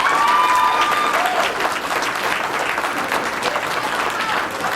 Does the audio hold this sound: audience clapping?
yes